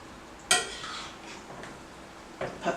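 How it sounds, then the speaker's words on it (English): A spoon scrapes and clinks against a pot while stirring pasta through a cheese sauce made with milk, sodium citrate and ground mustard, a sharp knock followed by soft wet swishing and a few more light scrapes. "I'm just gently stirring the pasta in the sauce so it cooks"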